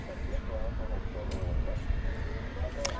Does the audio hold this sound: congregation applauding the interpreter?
no